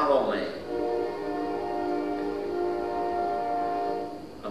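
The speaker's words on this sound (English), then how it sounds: "I'm waiting on the train whistle" A train horn sounds from a passing train, a sustained chord-like blast holding steady for several seconds, moderately distant, with no speech over it.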